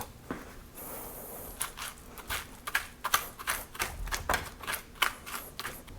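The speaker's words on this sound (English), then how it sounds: "you can cut through a longer fruit just like this" A big serrated knife sawing through a melon on a board, with irregular crunchy cuts and sharp clicks of the rind giving way, close and moderately loud with no speech.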